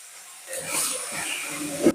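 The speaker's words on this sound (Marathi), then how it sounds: "आता आपण ही भाजी थोडी परतवूया छानपैकी 5 वाफेवरती" Fenugreek leaves sauté in a hot pan with a soft, rising sizzle and hiss that swells midway, close by, ending with a brief clink.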